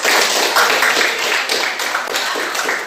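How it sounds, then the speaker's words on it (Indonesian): Classroom applause after a student group's presentation, a burst of clapping from a small audience that runs steadily for a few seconds and then thins out, close and fairly loud. "Kita berikan aplaus kepada."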